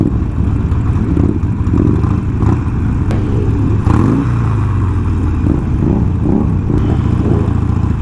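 Group of Harley Sportster motorcycles riding together on a city street at a gentlemen's ride, a dense, loud, continuous rumble of several engines with uneven revving and mechanical clatter.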